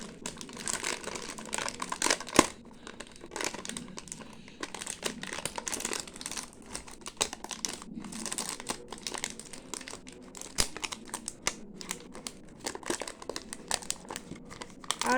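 A plastic sheet is handled and folded close by, giving a continuous crinkling and crackling with irregular sharp crunches throughout, no talk.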